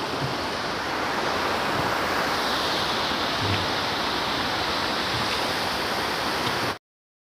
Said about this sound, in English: Beautiful little river.